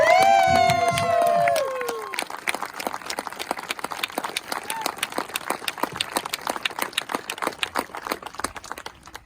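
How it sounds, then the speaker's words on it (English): An audience at a campaign event claps for military veterans, a scattered, steady patter of hands rising after a moment of speech and continuing at moderate distance with some cheering mixed in. "Give them a round of applause."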